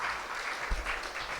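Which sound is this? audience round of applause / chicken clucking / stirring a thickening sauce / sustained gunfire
audience round of applause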